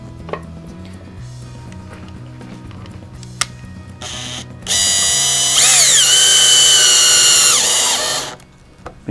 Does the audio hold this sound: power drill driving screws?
yes